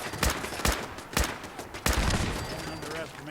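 Rapid bursts of automated turret gunfire in Fallout 4, three loud broadband volleys spaced about half a second apart followed by a lingering rumble and faint metallic tail.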